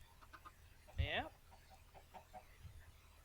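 Chickens in modded Minecraft let out one prominent squawk amid softer intermittent clucks, heard at moderate distance over a low steady background hum.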